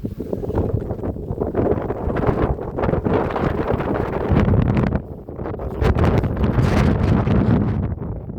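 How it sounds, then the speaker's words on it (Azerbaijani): Strong wind buffets the microphone outdoors at a five-room country house with a yard, a steady low roar with gusts that dip briefly and surge again throughout. "Üzürlü sayın biraz küləkdir, səs yaxşı düşmür."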